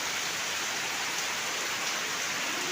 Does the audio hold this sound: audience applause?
no